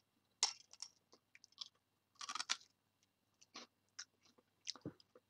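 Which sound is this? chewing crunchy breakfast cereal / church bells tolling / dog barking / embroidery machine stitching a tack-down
chewing crunchy breakfast cereal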